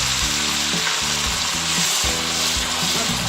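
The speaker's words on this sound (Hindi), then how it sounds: "अब इसको थोड़ा भून लेना है।" Onions, garlic, ginger and green chillies fry in hot oil for a masala, a continuous close sizzle broken by rhythmic scraping and stirring strokes of a spoon against the pan.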